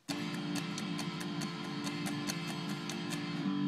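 Guitar notes ring out clearly over a sustained chord, picked in a quick steady pattern and played close without any talking.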